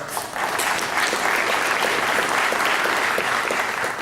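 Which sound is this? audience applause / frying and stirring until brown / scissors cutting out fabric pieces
audience applause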